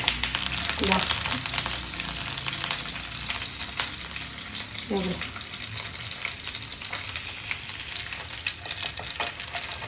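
Oil crackles and sizzles steadily with parrotfish frying in it, a dense hiss running throughout with occasional louder pops and stirring clatter, fairly close.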